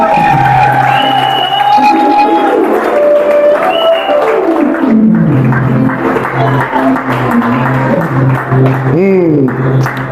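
A church retreat crowd applauds and cheers steadily throughout, with sustained singing voices carrying over the clapping.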